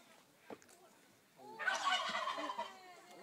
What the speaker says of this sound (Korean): 칠면조 그거.